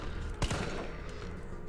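Gunfire in the video game Resident Evil 3 Remake, one sharp loud burst of shots near the start followed by a steady rumble of in-game background noise.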